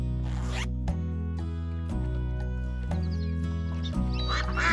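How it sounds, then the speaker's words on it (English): Cartoon ducks quack in a steady repeating pattern over continuous music with a sustained low tone, the quacks loud and close. "Look, Henry, ducks! Whoa, look at that! Quack, quack, quack!"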